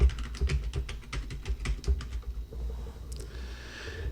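A password being typed on a computer keyboard during a Linux Mint update, a quick run of close, crisp keystrokes followed by a short pause and a faint final press, with no talking.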